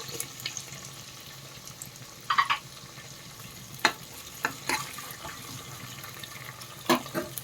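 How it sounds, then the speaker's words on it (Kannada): Green chilli and grated ginger fry in a little oil, a low crackling sizzle broken by several sharp clinks and scrapes of a spoon against the pan, close and fairly quiet, no talking. "ಹಸಿಮೆಣಸಿನ್ಕಾಯಿ ಒಂದು ಸ್ವಲ್ಪ ಎಣ್ಣೆಯಲ್ಲಿ ಫ್ರೈ ಆದರೆ ತುಂಬ ಟೇಸ್ಟ್ ಚೆನ್ನಾಗಿರುತ್ತೆ. ತುರ್ಜಿರೋ ಶುಂಠಿ ಹಾಕ್ತಾಯಿದ್ದೀನಿ."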